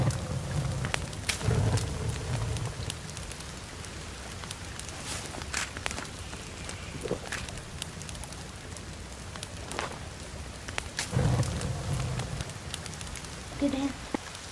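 Rain in the survival horror game The Forest, a steady soft patter over the whole stretch, with occasional footsteps and brief thumps.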